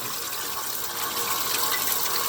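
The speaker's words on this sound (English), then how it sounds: "There's water draining from the inner part of the pipe." Water drains steadily from the inner part of a pipe, a loud continuous gushing rush that stays even and close with no voices.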